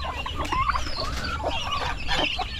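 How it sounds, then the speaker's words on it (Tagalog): Young chicken and turkey chicks peep and chirp continuously in a busy, overlapping chorus, close and moderately loud. "Ayan ang sisiyo ng pabo, sisiyo ng manok."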